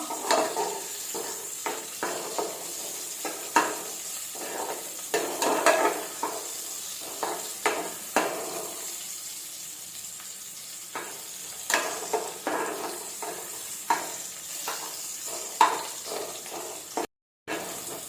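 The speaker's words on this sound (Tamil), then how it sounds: "வெங்காயம் நல்லா வதங்கிடுச்சு" Onion and crushed garlic fry in a pan for a keerai soup, a soft ongoing sizzle broken by repeated scraping stirs and light clinks of utensil on metal, heard up close without talking.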